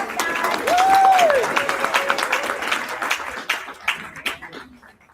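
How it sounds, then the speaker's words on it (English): Audience applause at a regular public meeting, a dense wash of clapping swelling early then thinning into scattered claps by the end, with a brief whistle-like tone near the start. "Give one more round of applause."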